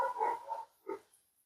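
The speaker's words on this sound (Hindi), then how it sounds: "कुत्ता लोग भौंक रहा है" A dog barks twice, close and fairly loud, with a longer first bark and a short second one, followed by quiet.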